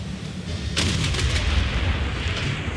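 A bombardment attack in Civilization 6 lands as a sudden heavy boom with a rumbling, crackling roll of artillery fire that holds steady and loud for a couple of seconds.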